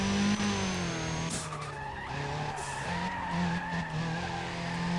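A VW Golf in NFS ProStreet understeering and sliding: a steady engine drone with sustained tire squeal and skidding over several seconds, loud and close, with pitch shifts as the car scrubs through the turn.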